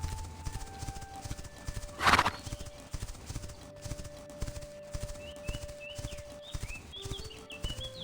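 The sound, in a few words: horse hooves clip-clopping in The Quinfall video game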